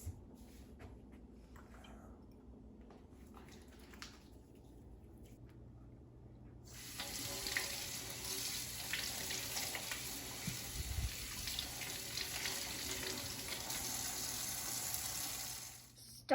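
Tap water runs steadily into a sink as hands and zucchinis are washed, a faint quiet room giving way to a sustained broadband rush of water that continues unbroken until cut off near the end.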